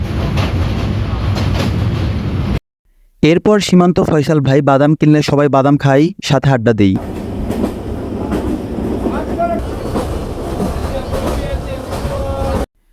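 A passenger train crosses the Hardinge railway bridge over the Padma, a loud rolling rumble with rapid rhythmic clatter from the wheels, under steady narration and then fading into a lower drone.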